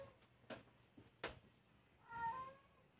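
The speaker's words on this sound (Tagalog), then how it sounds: "medyo may narinig kayong pusa" A house cat meows faintly in the background, one drawn-out mew near the end after a few soft taps and clicks, quiet and somewhat distant.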